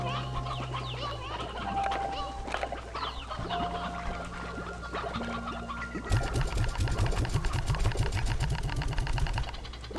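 Stony hens from the video game Slime Rancher 2 cluck and chirp in a busy mix of bird calls and game effects, with a dense burst of rapid, rhythmic clucking filling the second half.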